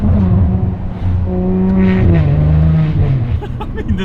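A Ferrari 599 GTO V12 roars up close, its tone climbing and then easing off in one loud, continuous pull, with a voice briefly heard over it.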